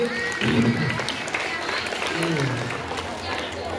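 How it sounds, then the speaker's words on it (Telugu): A crowd claps steadily at a high school farewell event while a voice speaks over the noise of the room. "చప్పట్లతో వారికి ఆహ్వానం తెలియజేయండి"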